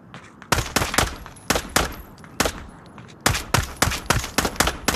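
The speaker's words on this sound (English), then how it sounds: "Don't mag dump a dead body, bro." Bursts of gunfire from a VR shooter game, loud sharp shots fired in rapid uneven volleys with brief pauses between, alone without talk.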